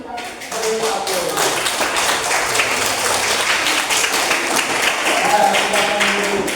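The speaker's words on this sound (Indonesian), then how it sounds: "Baik, kelompok 2, mari kita beri aplaus." Students in an Indonesian classroom applauding a presenting group, sustained brisk clapping lasting several seconds with some voices audible underneath.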